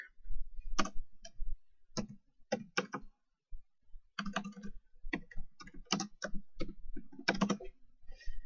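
Someone types on a computer keyboard to look up a card, tapping out quiet, close keystrokes in irregular bursts separated by short pauses.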